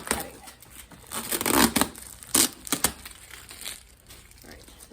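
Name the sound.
tearing packing tape off an orchid shipping box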